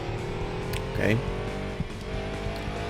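Race car in Gran Turismo 2 pulling out of the pit stop during an endurance race, a continuous engine drone with a brief tire squeal and rising rev, while a person talks over it.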